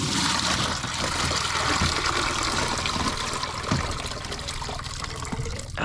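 Water trickles and sloshes inside a small fishing canoe out on a reef, a continuous close-up gurgle with faint knocks and no talking.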